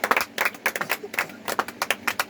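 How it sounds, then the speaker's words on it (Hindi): An audience at a Hindi talk breaks into applause, a moderate run of dense, uneven hand claps heard from nearby that keeps a steady patter throughout. "इसी बात पर जोरदार तालियां बजाया जाए"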